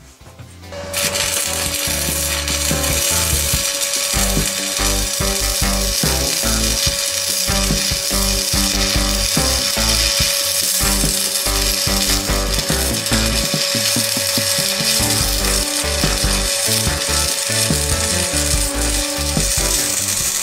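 Steel bars for a balcony railing grid are arc-welded, giving a loud, continuous crackling buzz with a steady hum that runs unbroken for about twenty seconds, close up and with no talking.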